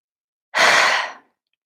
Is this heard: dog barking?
no